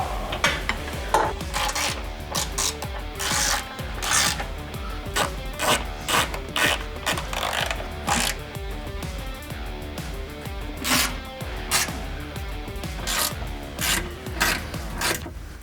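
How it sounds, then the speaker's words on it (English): A wrench tightens skid plate bolts on a Jeep, giving rapid repeated ratcheting clicks in quick irregular runs, fairly quiet and close with no speech. "let's go ahead and get all the bolts tightened"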